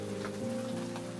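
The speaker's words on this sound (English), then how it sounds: "I guess they like the rain." Steady rain falls outdoors in a dense, even patter on surfaces, with a low steady hum running underneath the whole time.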